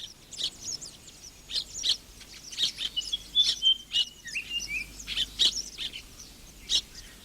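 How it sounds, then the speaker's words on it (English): An African weaver bird calls with bright, rapid chirps and short trilling phrases, repeated steadily and close by with no other sounds. "Perhaps one of the most unusual nest builders is the African weaver bird."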